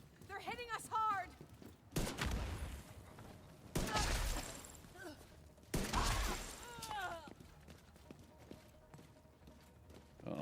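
Bursts of gunfire from the video game The Division 2, arriving in several loud broadband volleys of a second or so each, separated by quieter gaps, with a player talking excitedly between and over the shots.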